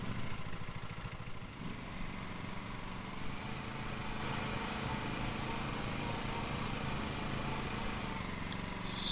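Steady engine drone of a lawn mower in Lawn Mowing Simulator, a continuous mid-pitched hum running the whole time at even loudness with a faint rising swell at the very end, no talking.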